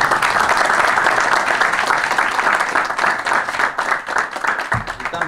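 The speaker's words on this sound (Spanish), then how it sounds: "Bien, un aplauso por favor." Audience applause fills a ceremony marking the 70th anniversary of a volunteer fire brigade in Tenares, steady dense clapping from a crowd throughout, easing slightly toward the end.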